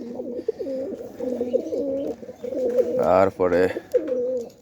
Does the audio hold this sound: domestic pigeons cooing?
yes